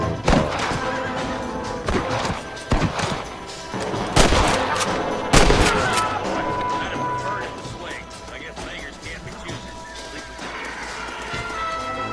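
Gunshots in the Western video game Red Dead Redemption, several loud sharp cracks spread across the scene amid horse neighs and hoofbeats, with voices talking over the game sounds.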